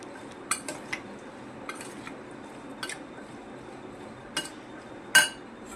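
Chhole with garam masala stirred in a pot, heard as scattered light clinks and taps of a spoon against metal with soft wet squishes between them at moderate distance.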